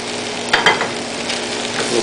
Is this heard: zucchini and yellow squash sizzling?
yes